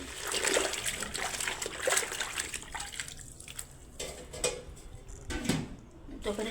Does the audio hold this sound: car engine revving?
no